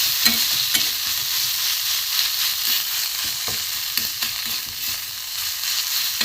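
Fish filling sautéed in a pan with salt, a steady sizzle broken by repeated spoon scrapes and taps against the pan at an irregular pace, close and fairly loud.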